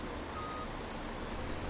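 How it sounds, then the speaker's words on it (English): Combine harvester reversing alarm in the Farming Simulator video game: a brief stretch of beeping over a dense, steady engine and machinery drone. "the harvester's beeping because it thinks it's in reverse"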